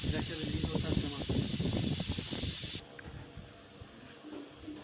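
A pressure cooker vents steam with a loud, broad hiss that runs for nearly three seconds and then cuts off abruptly, leaving quieter kitchen sounds, with someone talking underneath.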